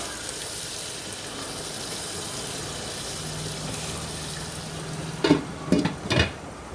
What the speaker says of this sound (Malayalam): സവാള ഒന്ന് മൂടി വെച്ച് നമുക്കൊന്ന് ഇളക്കി യോജിപ്പിച്ച് വേവിച്ചെടുക്കാം